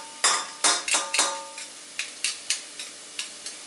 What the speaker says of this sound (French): nous allons bien les remuer et nous allons les faire cuire jusqu'à ce que l'oignon soit translucide.